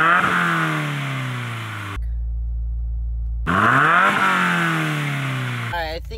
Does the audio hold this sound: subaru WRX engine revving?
yes